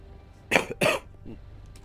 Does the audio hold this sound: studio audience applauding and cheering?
no